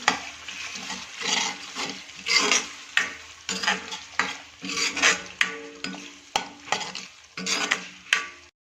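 A pan of Kathiyawadi whole onion curry with spices and yogurt sizzles while a spoon stirs it in steady, rhythmic strokes, each scrape clear and close, roughly one to two per second, with no talking.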